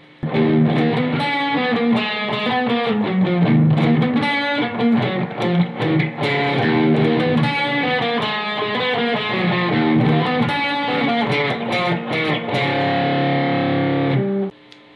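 A distorted electric guitar plays the introduction of a song through a distortion pedal, a continuous, loud riff with chords and melodic lines, heavily overdriven, sustained for the whole stretch and then stopping abruptly.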